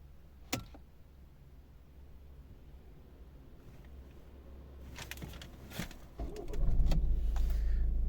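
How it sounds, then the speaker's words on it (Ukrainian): Quiet ignition clicks, then the 1.6 D2 diesel engine of a 2012 Volvo V50 cranks and catches, settling into a low, steady idle close by. "Дуже чітко і швидко заводиться без проблем."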